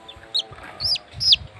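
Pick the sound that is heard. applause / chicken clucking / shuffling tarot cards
chicken clucking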